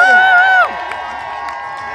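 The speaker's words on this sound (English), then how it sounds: "happy birthday, the round of applause for Percy!" A crowd at Percy Pig's 30th birthday party cheers and applauds, with a loud sustained shout at the start giving way to clapping and scattered voices.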